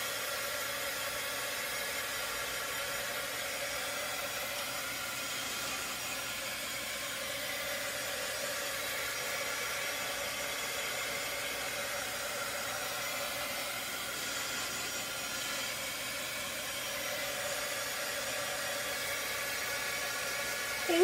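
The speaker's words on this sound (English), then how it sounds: "I'm going to grab my heat tool." A handheld heat tool blows steadily for about twenty seconds, a constant loud rushing whoosh drying a stencil project, with no talking over it.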